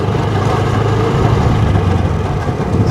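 A car engine runs steadily with a low, continuous rumble, held at a constant level and close by, with no clear rise in revs.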